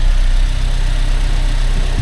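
A car engine idles with its alternator charging, giving a loud, steady low hum and vibration throughout a short stretch, with no voices.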